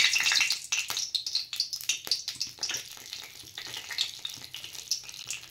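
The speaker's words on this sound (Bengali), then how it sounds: "হাতাতে দিয়ে ভাজছি, কারণ কড়াতে দিলে আর ওঠাতে অসুবিধা হবে, তাই আমি এখানেই ভেজে নিচ্ছি" Nigella seeds fry in hot oil in a ladle, a bright crackling sizzle that bursts loudly at first and then settles into an irregular spitting hiss.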